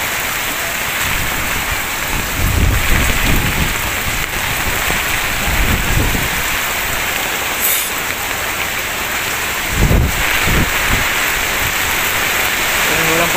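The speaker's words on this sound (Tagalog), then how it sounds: "Napakalakas yung hangin." Heavy typhoon rain pours onto a flooded road as strong wind gusts, a loud continuous roar with a few deeper rumbling surges, close and with no voices.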